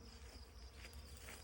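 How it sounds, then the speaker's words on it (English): A swarm of bees hums with a low, steady, faint buzz, close and continuous, with no voices over it. "Again, you hear the hum, see the bees."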